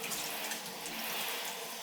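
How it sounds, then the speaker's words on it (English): Water from a shower rinses down a glass shower enclosure, a steady soft hiss of spray hitting the glass with no voices. "So now I need to do is just pretty much rinse the glass like this."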